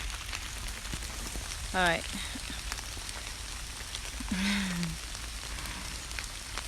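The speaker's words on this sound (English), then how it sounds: "I'm in the forest right now. And it's raining." Rain patters steadily through a rainforest, a constant soft hiss of drops on leaves, with a couple of brief bird-like chirps and a short spoken word over it.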